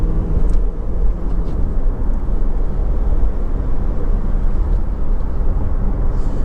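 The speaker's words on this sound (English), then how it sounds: "hit the brake pedal, check the brakes." Honda CR-V 2.2 i-DTEC EX 4x4 heard from inside while braking hard at speed: loud, steady low rumble of road and engine noise filling the cabin, with no distinct squeal.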